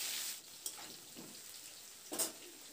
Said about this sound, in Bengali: এবার আলুটাকে লালচে রং ধরা পর্যন্ত আলুটাকে একটু ভেজে নেব।